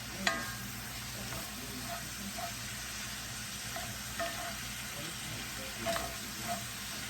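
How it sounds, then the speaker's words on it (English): Sausage frying in a pan for sausage gravy, a constant close sizzle with occasional light scrapes and stirring clicks throughout. "we're almost there, getting all the pink out of our sausage"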